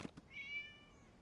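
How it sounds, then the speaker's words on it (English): A cat in Genshin Impact gives a single short meow, faint and clear, following two soft thumps and then fading into quiet. "It was just a cat."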